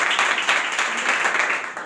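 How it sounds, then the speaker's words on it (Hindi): Audience applause in a crowded hall, dense clapping that runs steadily for about two seconds, close and fairly loud. "ताली बजा।"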